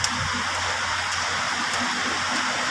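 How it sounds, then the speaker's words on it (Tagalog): Rain falls steadily as an even, continuous hiss of drops with no pauses and no voices. "Pero padayon gihapon ang ulan."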